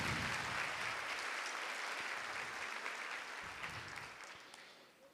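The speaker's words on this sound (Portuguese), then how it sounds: "Aplauda mesmo em honra." A church congregation applauds in honor of a partner of the church during an evening service, steady broadband clapping filling the room and slowly thinning toward the end, with no one speaking over it.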